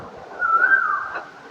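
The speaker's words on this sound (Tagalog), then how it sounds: "Yung hiyak ng ibon." A single bird call in rural Quezon Province near a river bridge, a short soft whistled coo rising and holding for about a second, moderately faint with quiet background.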